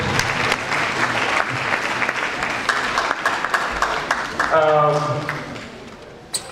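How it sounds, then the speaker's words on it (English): Audience applause after a speech at a communication event, a dense sustained burst of clapping with crowd murmur that fades toward the end, with a voice briefly audible near the close. "A round of applause."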